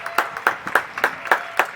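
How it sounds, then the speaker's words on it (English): One person claps alone in a slow, steady rhythm, about seven distinct close claps evenly spaced. "I accept the applause."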